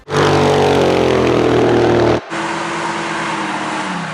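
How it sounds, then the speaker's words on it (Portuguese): A Chevrolet Small Block V8 rumbles loud and close in a dense, steady roar. It cuts off abruptly, then resumes at a slightly lower, even drone. "Quando você ouve o ronco desse motor, você não está só ouvindo pistões e metais em movimento"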